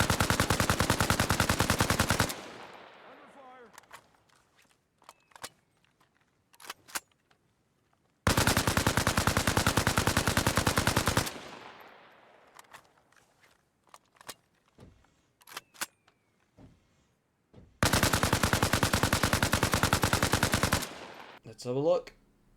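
An AK rifle in Arma Reforger fires at an LAV in three long, loud full-auto bursts. Short gaps between bursts carry faint clicks and impact sounds.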